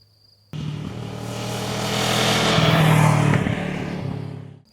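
A used Kawasaki ER6N motorcycle engine kicks in after a brief quiet moment, its revs climbing steadily into a fuller, louder drone before easing off slightly near the end, heard close and alone.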